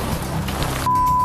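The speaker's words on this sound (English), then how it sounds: "It's raining a lot, but it's a good fish." Rain falls on a fishing boat during alligator gar fishing, a dense close patter of drops for about a second before a sharp cut to a steady hum, with no talk.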